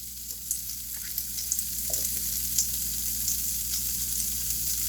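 Tofurky tempeh smoky maple bacon strips frying in a pan, giving a continuous gentle hiss and crackle with small scattered pops, close and fairly quiet, no voices.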